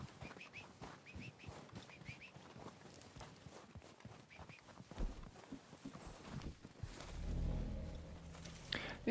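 Horse hooves clip-clop steadily in Red Dead Redemption 2 Online, a rhythmic run of soft thuds drawing closer across open ground, with a low rumble swelling near the end and faint bird calls in the background.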